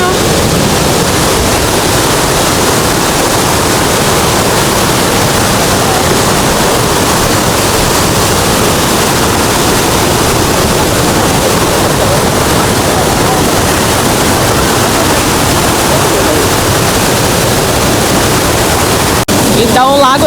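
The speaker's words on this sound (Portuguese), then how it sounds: "Olha aqui, a cachoeira que se forma, a queda d'água, né?" A waterfall in China cascades right beside a walkway, producing a loud, constant roaring rush of water that fills the whole stretch without a break.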